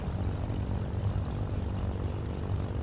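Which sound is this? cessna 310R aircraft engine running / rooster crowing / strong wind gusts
cessna 310R aircraft engine running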